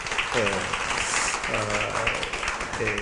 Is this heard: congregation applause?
yes